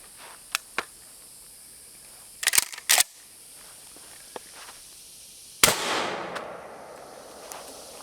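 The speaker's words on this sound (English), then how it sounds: "this is a buckshot. I'm going to be shooting at this sheet metal" A cheap Mossberg Maverick 88 pump shotgun fires buckshot at sheet metal, and the heavy blast hits with a sharp crack and a metallic ring that decays slowly. Scattered clicks and clanks come before it at moderate distance.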